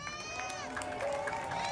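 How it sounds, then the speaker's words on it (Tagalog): The crowd at the Miss Gay Pangkalawakan pageant in Oroquieta, Manila cheers and shouts in a brief, lively burst of overlapping high voices and scattered applause. "maaari ho ba akong malimos ng palakpakan at hiyawan?"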